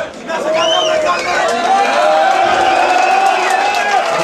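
A concert crowd at a metal show in Washington, D.C., cheering and roaring loudly and steadily from start to finish, with whistles cutting through the dense wall of voices.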